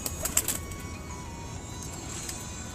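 High-flying pigeons around a loft, with soft scattered bird calls and faint wing sounds against a steady, quiet outdoor background, no talking.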